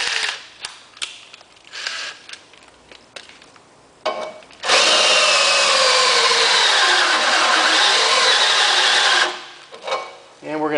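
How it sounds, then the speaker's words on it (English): A step drill bit grinds through a VW Transporter Doka van bumper, a loud sustained whirring for about five seconds after several short clicks and knocks, then trailing off into handling noise. "we're going to go to our stepper drill here"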